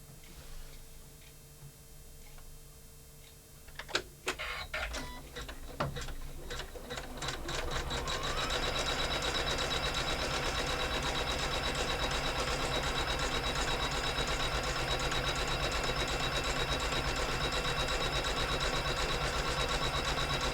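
An embroidery machine stitches an in-the-hoop wallet with cotton thread, starting with a few sparse clicks and taps, then settling into a loud, steady, rapid mechanical whir that runs unbroken to the end, close up and without speech.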